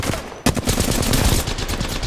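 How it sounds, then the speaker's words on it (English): Close gunfire in Apex Legends, a sudden burst of rapid shots breaking over a busy battle background and continuing steadily to the end. "Shots fired."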